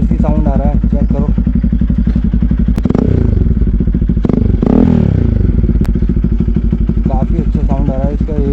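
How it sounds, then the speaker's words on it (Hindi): Modified Bajaj Pulsar NS200 engine running loud and close, a deep steady exhaust idle that swells through a couple of throttle blips in the middle before settling back to a bassy burble. "एक बार मैं आपको एग्जॉस्ट का नोट सुना देता हूँ स्टार्ट करके बाइक को।"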